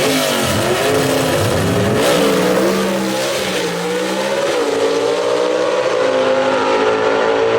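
Gasser drag race cars tearing down the drag strip at Shadyside Dragway, loud, rough engine roars rising in pitch as they accelerate, with overlapping motors sustained throughout.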